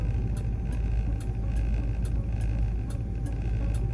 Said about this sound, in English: I love the turn signals on these old cars. It's just kind of a laid back sound. Click, click, click, click.